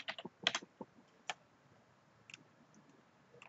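Quiet, close typing on a computer keyboard while entering an email: a quick cluster of key clicks, a pause, one more sharp tap, then a few faint scattered taps.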